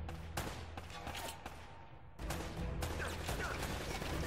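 Enemy gunfire rattles in the action game Uncharted: Drake's Fortune, a run of sharp shots with a pause and then more bursts, moderately loud, no one speaking.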